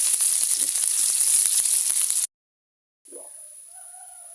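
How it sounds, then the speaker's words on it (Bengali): Chopped garlic and a medium onion frying in hot oil for fenugreek greens, a bright crackling sizzle that cuts off abruptly, followed after a pause by a quieter hiss with a faint knock. "রসুন কুচি দুই তিন কোয়া মিডিয়াম সাইজের একটা পেঁয়াজ ভেজে নিব"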